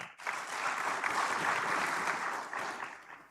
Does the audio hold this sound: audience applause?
yes